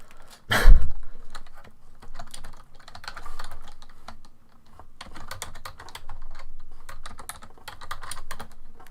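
Rapid typing on a computer keyboard, close and clear, comes in irregular bursts of clattering keystrokes with short pauses between them. A sharp thump is heard near the start.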